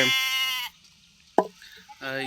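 A sheep bleats in two drawn-out, wavering calls with a short gap and a brief knock between them, close and fairly loud, on a farm where sheep and goats are raised.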